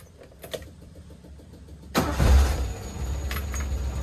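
Honda CR-V Futura engine cranking to life, a quiet ticking lead-in followed by a sudden loud start and steady rumbling idle close by, with no talking over it.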